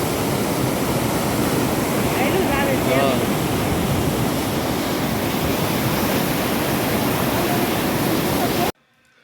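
Loud, continuous rush of flowing river water, a dense broadband roar heard up close, ending abruptly.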